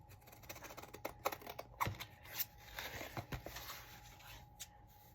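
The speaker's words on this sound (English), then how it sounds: "I'm going to take my scissors" Scissors cut through black paper during a card-making project, giving a handful of crisp, close snips and rustles scattered irregularly over a quiet background.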